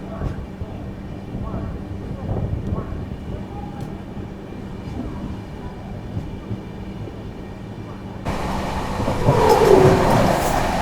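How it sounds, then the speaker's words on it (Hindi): The North East Express train, running between Kamakhya and Delhi, rumbles past with a steady rolling clatter that swells louder toward the end. "और ये निकल रही है भाई हमारी नॉर्थ ईस्ट एक्सप्रेस।"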